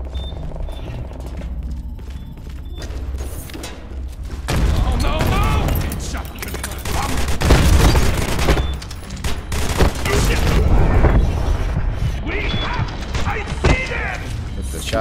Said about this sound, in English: let's get the AK back out